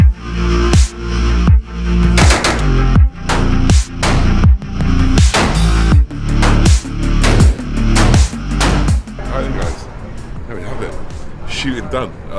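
Gunfire at an outdoor shooting range in Texas, about a dozen loud, sharp shots spaced roughly a second apart, each with a short decaying echo, then quieter rustling at the end.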